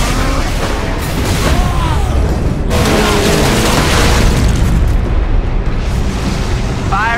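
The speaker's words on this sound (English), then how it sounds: "He just fired right at the spire." A weapon in the Warhammer 40,000: Space Marine video game fires at a towering spire, a loud booming blast with a long rumbling roar, while a player talks over it.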